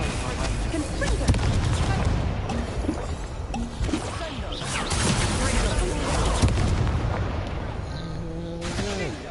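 Repeated fiery spell blasts and crashing booms in the Hogwarts Legacy video game, dense overlapping explosions of combat that rumble loudly throughout with shifting impacts and effects.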